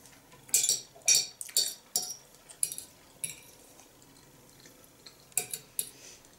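Small children's fork clinking and scraping against a plate while eating pork neck with cheese and vegetables, a series of close, sharp metallic taps in an irregular rhythm.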